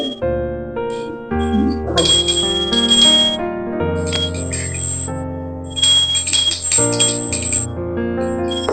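A small hand bell rings rapidly and continuously during a Hindu Satyanarayana puja, bright and close, with brief pauses between ringing spells and no talk.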